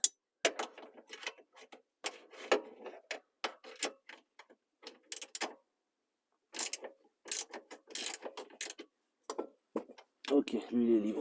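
A ratchet loosens a bolt on the rear suspension arm of a Saab 9-3, producing bursts of quick clicking with pauses between, close and fairly loud.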